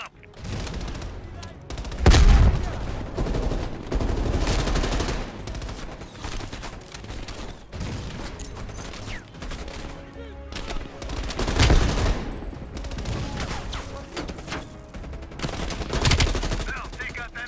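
Bursts of machine gun fire in the Call of Duty Cold War video game, rapid rattling volleys and sharp gunshots recurring across the stretch, loud and close amid battle noise with a voice heard briefly.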